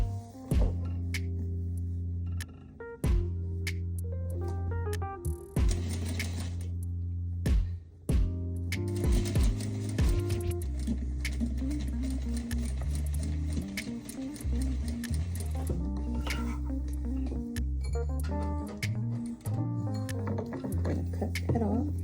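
A sewing machine stitches down a number 5 zipper on a mini zippered pouch, running in steady mechanical bursts with brief pauses and clicks, close and fairly loud.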